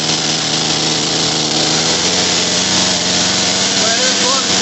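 A Poulan P3314 chainsaw, freshly repaired with a new carburetor and fuel line, runs at a steady, loud, high-pitched partial-throttle drone close by, with a voice speaking over it.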